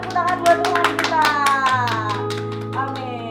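A congregation at an Easter children's worship service claps hands in quick rhythmic bursts over sustained keyboard music, the claps strongest early and fading as the music carries on.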